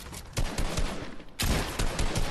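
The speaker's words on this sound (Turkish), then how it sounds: "kaç vurdun sen bana?" Rapid bursts of video game gunfire, two sustained volleys of automatic shots separated by a short pause, loud and close with no voices.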